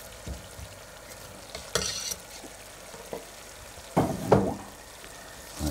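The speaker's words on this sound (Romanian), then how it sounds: "Hai să amestecăm." Meat and sauerkraut get stirred in a pot with caraway seeds, giving soft scraping and clunking spoon strokes with a few louder bursts over a quiet sizzle, close by with no talk.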